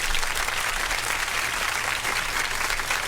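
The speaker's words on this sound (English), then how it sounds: "Let me give her a round of applause." Steady applause from a studio audience welcoming a guest on a talk radio show, dense clapping held at an even level for the whole stretch with no voices over it.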